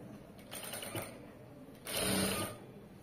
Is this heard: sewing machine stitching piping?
yes